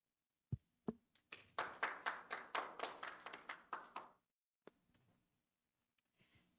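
A small audience at a talk gives brief applause in welcome: a few scattered claps build into a short burst of roughly a dozen quick hand claps, then trail off into isolated taps, faint and intimate.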